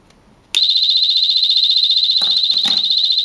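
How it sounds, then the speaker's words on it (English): Anti-theft security alarm from an M10 central unit sounds after a theft attempt: a loud, continuous high-pitched electronic tone that starts abruptly and holds steady with a fast pulsing warble, with a few brief knocks or clicks underneath. "When there is a theft attempt,"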